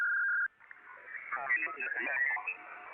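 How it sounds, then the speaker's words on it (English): A steady tone cuts to a CRY 2001 voice scrambler radio transmission, garbled, warbling and unintelligible speech. "Cry 2001 voice scrambler."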